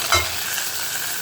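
Cumin, fenugreek and asafoetida fry with browned onions for a Tamil buttermilk curry, a dense steady sizzle with one brief clatter of stirring near the start, close and even.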